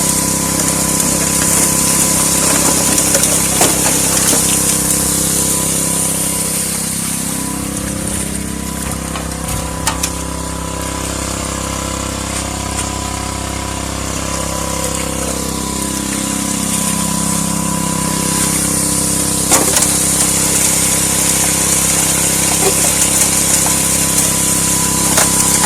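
Small gold dredge with a 1.5 inch nozzle runs steadily, its engine and suction pump droning loud and continuous throughout, with a brief dip in pitch around the middle before settling back to a constant hum.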